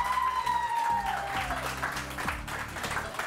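Clapping from a crowd fills the clip, steady and dense throughout, with a tone sweeping down early on and a few voices mixed in.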